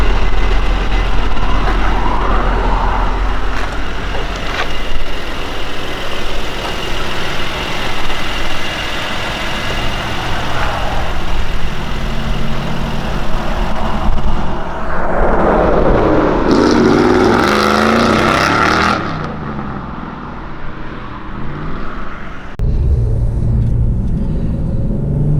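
A Mercedes C43 car driving on a road gives a steady engine rumble and road noise throughout, louder and rougher midway, with a brief dip in level before the drone resumes.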